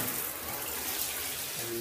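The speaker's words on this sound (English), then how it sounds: "Quick check the shower pressure" An electric shower in a rented two-bed house runs with a steady, close hiss of spraying water that holds evenly throughout, with no talk over it.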